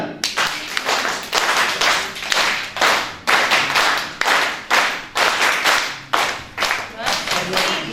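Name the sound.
group performing panchtali five-beat clapping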